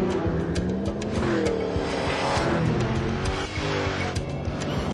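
A Ford Mustang drives hard through a cornfield setting for a commercial, with a continuous engine roar and tire noise layered with scrabbling, skidding texture throughout.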